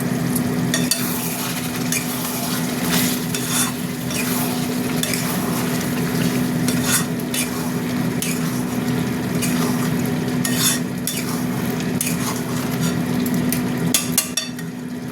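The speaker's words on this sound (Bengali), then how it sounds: "একটু কাশ্মীরি লঙ্কা দেবো, দিয়ে আবার একবার নেড়ে দেবো।" Chicken curry frying in a pan with Kashmiri chili, stirred steadily: a continuous sizzle with repeated scraping and clinking of the spoon against the pan, close and fairly loud, with a steady low hum underneath and no talking.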